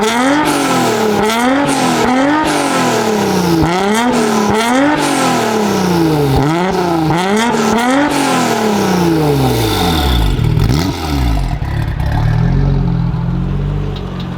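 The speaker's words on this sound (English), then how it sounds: "the R33 has a classic RB sound to it. It sounds good." A Nissan Skyline GT-R R33 with its RB engine and HKS high-power exhaust revs hard through repeated rising and falling pulls, loud and close, with a final long climb and settle.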